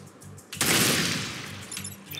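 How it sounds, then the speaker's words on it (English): A burst of gunfire from the strategy video game Into the Breach, a sharp loud blast with a crackling, decaying rumble after it, set over a low steady game music bed. "So you could come here, throw this on him. You can shoot him."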